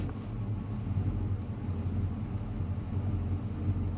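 Carbureted engine idling low and steady after being put in gear, a faint continuous droning rumble with no talking.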